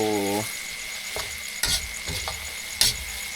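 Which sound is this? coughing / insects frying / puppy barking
insects frying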